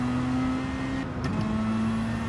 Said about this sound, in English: Feels like you rev it out.